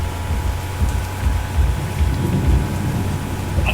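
Rain falls steadily in a storm with low rumbling thunder in the background, a continuous wash of noise with no voices.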